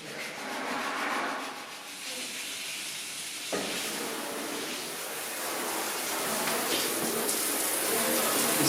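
Tap water runs steadily into a bathtub, a continuous hissing rush that grows slightly louder and brighter over time, with no voices.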